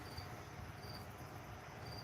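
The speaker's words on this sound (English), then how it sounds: "I cannot take the noise of a cricket." Crickets keep up a faint, high, steady chirping trill with a few brighter pulses, over a quiet, constant background hum and no other sound.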